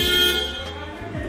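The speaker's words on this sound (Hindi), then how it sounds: "हॉर्न" Maruti Suzuki Ignis car horn sounded during an electrical inspection at a service centre, a single loud, steady, buzzy tone held throughout the short burst.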